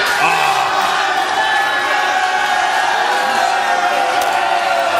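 A wrestling crowd in a Twin City Wrestling arena roars and jeers angrily, a loud sustained wall of shouting voices with no pauses.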